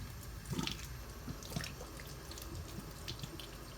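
Squash blossoms being washed under a running kitchen tap: continuous splashing water close by, with small sharper splatters as the flowers are rinsed, with no talking.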